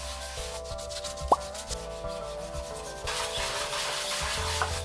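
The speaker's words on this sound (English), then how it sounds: "then it's back to Bondo, and some more sanding" Sanding of filler and Bondo on a 3D printed guitar body, steady rubbing strokes up close, with a louder, rougher stretch of sanding in the second half and no talking.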